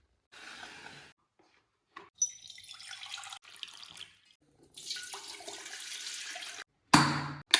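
Hot water being poured in several separate bursts of splashing flow, fairly close, with short quiet gaps and a sharp knock near the end.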